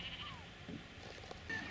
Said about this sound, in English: And the sheep.